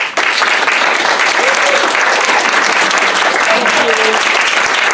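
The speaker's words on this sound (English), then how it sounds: "applause" Loud, dense audience applause during a church worship service, many hands clapping steadily and close for about five seconds, with faint voices mixed into the crowd noise.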